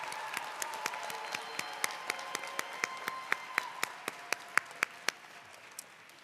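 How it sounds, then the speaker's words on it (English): Sparse, scattered clapping for a student speaker at a school oratory competition: a handful of individual hand claps spaced out and gradually petering out, fairly faint, with a few louder sharp claps near the end. "Let's give her a round of applause that she can hear."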